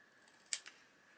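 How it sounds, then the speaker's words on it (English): Scissors snip through paper for a junk journal, one crisp cut followed quickly by a smaller second snip, close and quiet against a faint background. "I might actually just cut this up"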